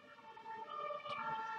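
A fire engine siren wails steadily outside, a sustained tonal whine with wavering harmonics passing at moderate distance behind faint traffic noise, with no talk over it.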